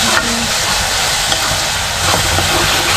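Masoor dal being stirred in a pan, a steady scraping, sizzling wash that runs the full length at close range with a few brief utensil knocks and no voices.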